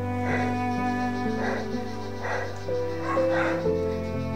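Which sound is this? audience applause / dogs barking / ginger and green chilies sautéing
dogs barking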